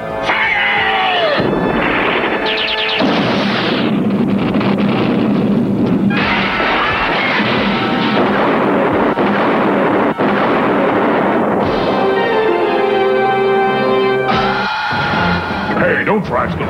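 Weapons blast and explosions boom from a 1993 Transformers Generation 2 cartoon battle. The bursts are loud and keep coming, with shouting voices over them throughout.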